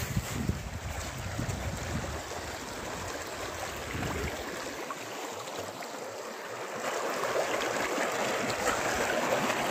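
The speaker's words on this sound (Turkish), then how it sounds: "billur gibi kaynak suyu. Doğal kar suyu." Snowmelt spring water flows steadily outdoors in early spring, a continuous broadband rush with some wind noise across the microphone and no voices.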